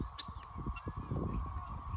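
Ducks kept with chicks on a farm give repeated honking quacks at close range over a steady background hum, with short bursts scattered throughout.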